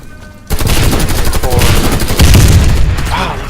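Flashbang grenades and gunfire in the online shooter Warface: a loud burst begins abruptly after a brief quiet lead-in, followed by dense crackling shots and booms, with a voice faintly present in the mix.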